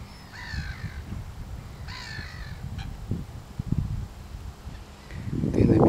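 A heron near Rybinsk gives two harsh, croaking calls a little over a second apart over rustling and wind, and the rumble grows louder toward the end.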